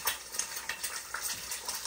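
An egg sizzling and frying directly over an open fire without a pan, with steady crackling and popping plus faint scraping and stirring sounds, close by and without talk.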